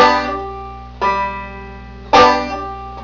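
Plucked banjo notes ring out alone, three distinct attacks about a second apart, each decaying, demonstrating a played note followed by a pull-off on the string.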